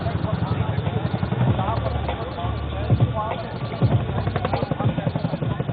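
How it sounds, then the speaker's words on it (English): A Chinook helicopter maneuvers at an Air Force Day display in Chandigarh, its rotor throb heard under continuous talk over a public address. "What you are seeing in front of you is Chinook has done a tailover maneuver."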